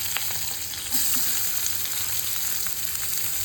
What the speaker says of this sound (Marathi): आता टाकून घेते कांदा